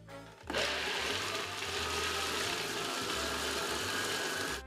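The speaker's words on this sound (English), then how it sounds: "You're gonna put it in the food processor" A food processor grinds hazelnuts into a paste, starting abruptly and running as a loud, steady whirring buzz close by, with slight shifts in pitch as the nuts churn.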